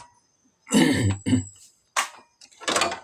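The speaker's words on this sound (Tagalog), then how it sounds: "inuubo tayo" A cluster of harsh, close coughs: two quick rough bursts, a pause, then two more hacking coughs, loud and with no speech.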